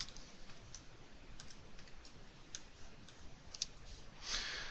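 Typing on a computer keyboard while entering data into an Excel table, a quick irregular run of soft key clicks close by with a slightly louder clatter near the end, no voices.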